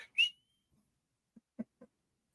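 A referee's whistle at a football coin toss gives one short, sharp blast near the start, followed by a few faint, brief soft sounds in otherwise near silence.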